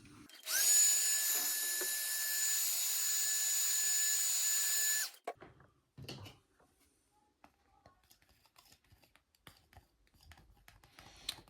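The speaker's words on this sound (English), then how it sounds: "So let's try blow drying it." A hair dryer blows steadily on 3M Scotchgard protective film for about five seconds with a loud, even whir, then cuts off, leaving faint handling clicks and rustles.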